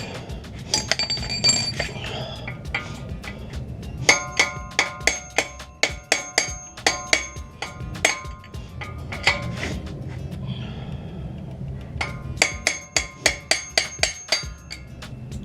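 Metal hammer strikes on stuck, never-loosened axle bolts of a 2006-2011 Honda Civic Si, a steady series of sharp ringing clanks in bursts with short pauses, close and loud in a garage with no talk.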